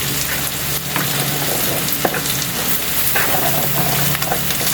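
String beans frying in a pan with browned garlic for adobong sitaw, a loud, steady close sizzle with occasional stirring scrapes and clatter throughout.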